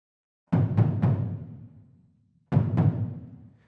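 Sampled Fluffy Audio Taiko Dojo taiko drums play a higher percussion layer: three quick booming strikes that ring out, a pause, then two more hits, dry and close.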